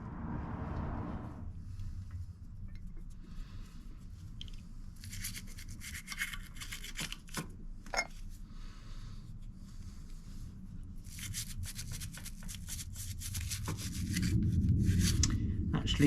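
A dirty rear brake caliper on a Triumph Bonneville motorcycle is scrubbed with a small brush, giving repeated gritty bristle strokes in bursts, close and fairly quiet.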